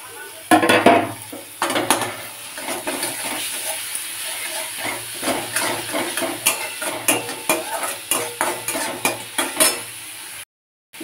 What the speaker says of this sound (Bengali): পেঁয়াজটা মোটামুটি ভাজা হচ্ছে